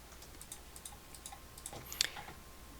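Faint, scattered computer mouse clicks and light tapping sound close by in a quiet room, irregularly spaced, with one slightly louder click cluster near the end.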